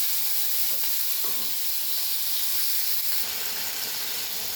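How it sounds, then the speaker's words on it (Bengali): Onion and tomato are sautéed in a pan for a tengra fish curry, making a bright, continuous hiss and sizzle close by with a few faint stirring knocks, no speech. "পেঁয়াজ দিয়ে দিলাম টমেটো দিয়ে দিলাম ভালো করে কষিয়ে নেব"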